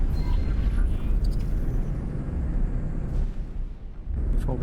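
A deep, loud explosion rumbles through a space battle in the video game X4: Foundations, a broad roar that holds steady for several seconds before it eases slightly and swells again.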